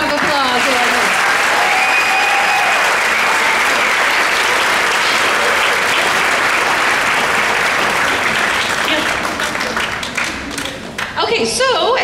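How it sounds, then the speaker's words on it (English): Sustained, loud audience applause from a crowd at a school awards ceremony, steady clapping filling the room for about ten seconds before tapering near the end. "Give them another big round of applause."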